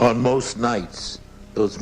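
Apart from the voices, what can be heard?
No distinct noise like a dog, phone or traffic.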